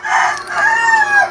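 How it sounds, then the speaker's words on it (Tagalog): Rooster crowing close and loud in a single sustained call lasting over a second, standing alone with no talk over it. "Ay na naman yung manok."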